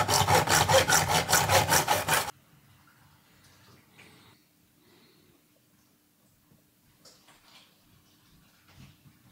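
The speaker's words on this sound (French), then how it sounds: "je vais venir les couper à l'onglet" A short burst of rapid, rhythmic sawing as a miter saw cuts wood trim at an angle, loud and close, followed by quiet handling noises and faint taps.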